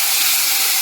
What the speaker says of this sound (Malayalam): 1/2 ഗ്ലാസ് വെള്ളമാണ് ഇതിലേക്ക് ഒഴിച്ച് കൊടുക്കുന്നത്.